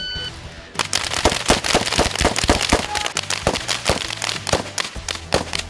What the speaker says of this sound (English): Firearms and shooting